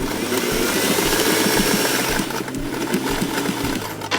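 A sewing machine stitches a dress seam during a one-shoulder dress alteration, a fast, even mechanical whir with rapid needle ticks, close and steady, easing off partway through.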